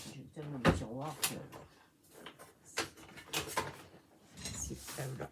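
Wooden drawers slide open and shut with knocks and rattles during a search, in several bursts at close range, while a person talks intermittently.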